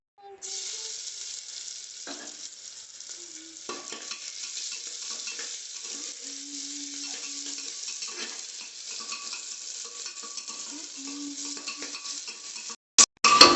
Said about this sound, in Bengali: এই যে মাটন এবারে তেল ছেড়ে দিয়েছে কষাচ্ছি এখন